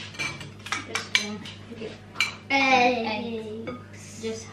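A whisk clinks and taps against a bowl while a melted butter mixture is stirred, producing a run of sharp, close metallic knocks and a scraping stretch, with people talking quietly in between.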